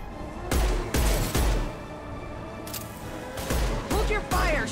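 Bursts of gunfire in the sci-fi shooter game Mass Effect 2 during a firefight, several loud volleys spaced across the moment with brief lulls between them, mixed with game voices and background effects.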